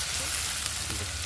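Onions sizzling in hot oil for a country chicken curry, a loud, close, steady frying hiss that runs without a break.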